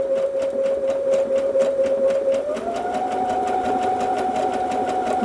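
Brother Innov-is F400 sewing machine running a zigzag stitch, a steady close mechanical whir with rapid needle clatter that rises in pitch partway as the speed picks up, continuous with no talk.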